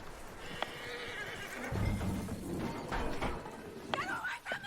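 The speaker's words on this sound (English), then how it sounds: "That looks like a decent horse." Horse in the Red Dead Redemption 2 video game, hooves clopping with a snorting whinny among soft thuds and a few sharp clacks, moderately quiet with faint game sounds around.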